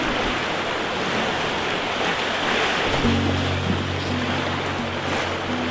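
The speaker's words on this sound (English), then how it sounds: "That tide is actually ripping down through there as we approach some low water." Tidal water rushes and waves wash around the rocky reef of Filey Brigg near low tide, a loud, broad and continuous roar, with a low droning hum joining in partway through.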